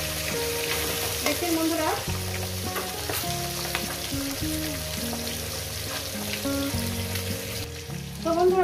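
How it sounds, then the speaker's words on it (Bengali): A fish head frying in oil in a pan sizzles steadily and close up throughout, while a person speaks briefly over it. "তো বন্ধুরা আমার মাছের মাথাটা ভাজা হয়ে গেছে।"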